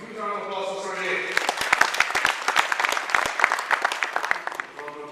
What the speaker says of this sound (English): So huge round of applause for Sergey.